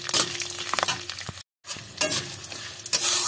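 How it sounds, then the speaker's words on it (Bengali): Leaves, garlic cloves and other ingredients fry together in a pan, with a crackling sizzle punctuated by stirring scrapes and light clinks, a brief silent break midway, then more stirring and sizzle. No one speaks. "এর মধ্যে দিয়ে দেবো কিছুটা রসুনের কোয়া, এবং এটাকে দিয়ে ভালো করে সব কিছু, সব উপকরণ একসঙ্গে ভালো করে ভেজে নেব।"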